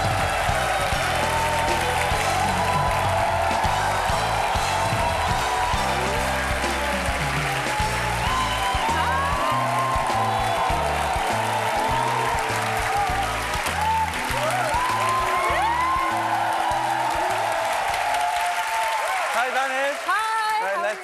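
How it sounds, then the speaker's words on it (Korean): A classroom of students applauding steadily to welcome a foreign teacher, dense sustained clapping for about twenty seconds with voices and cheering mixed in. "여러분들이 긴장하고 박수를 많이 주셔야 된다"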